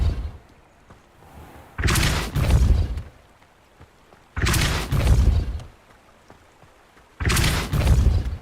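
Three heavy blasts of the Depulso force spell in Hogwarts Legacy, each a loud, roughly one-second whooshing impact with a double-pulsed body, spaced evenly a few seconds apart over quiet background.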